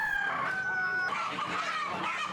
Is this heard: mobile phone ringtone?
no